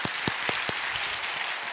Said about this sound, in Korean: 다시 박수 한번